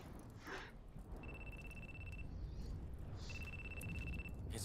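The boss's phone rings with two separate electronic trills, each lasting about a second, fairly faint over steady background hiss.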